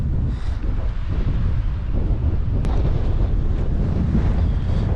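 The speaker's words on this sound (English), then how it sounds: "and of course very windy" Strong wind blasts across an open Atlantic coastline near Galway, Ireland, a steady loud roar buffeting the microphone with low rumble and surf-like wash throughout, no voices.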